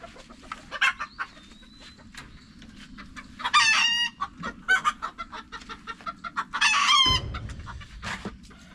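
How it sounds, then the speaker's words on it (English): A Creole rooster crows twice, loud and close, surrounded by scattered clucks and chirps from nearby chickens over a low steady background hum on a homestead. "That's the prettiest Creole rooster out there I've ever saw."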